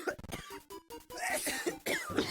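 A coughing sound effect from a plague infection game, heard as a short run of harsh, close coughs and throat-clearing over busy game audio with musical tones.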